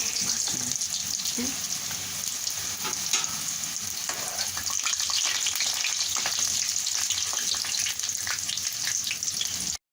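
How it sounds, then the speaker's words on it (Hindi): Aloo samosas deep-frying in hot oil, a dense continuous sizzle and bubbling that holds steady and close for the whole stretch before cutting off abruptly at the end. "एक एक करके आपने डालने हैं। जब ये गोल्डन ब्राउन हो जाएंगे फिर हम इसको निकाल लेंगे।"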